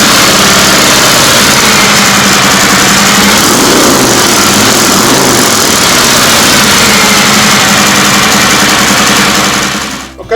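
A 2019 Harley-Davidson Road Glide with its stock exhaust runs from about six feet behind the pipes, a loud, steady, throbbing idle that lasts several seconds and then cuts off abruptly at the end.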